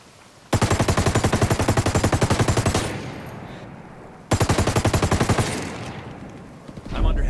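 Heavy automatic gunfire in a military shooter game comes as two long, loud, rapid bursts, each several seconds long, separated by a short pause and trailing off into echo.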